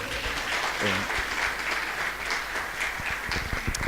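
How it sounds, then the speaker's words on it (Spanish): Congregation applauding guest pastors at a church service, a dense, sustained burst of clapping from a crowd filling the whole stretch, fairly loud and without speech. "Denle un aplauso fuerte, por favor."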